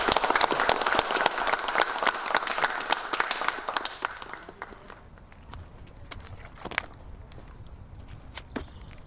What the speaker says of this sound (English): shall we have a clap for the Heritage Trail?